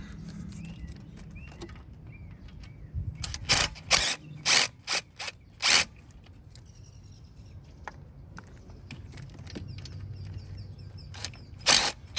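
A ratchet backs out 10 mm bolts on a GM L-series engine. Bursts of sharp, rapid pawl clicking come close up, then a quieter stretch and one more short burst near the end.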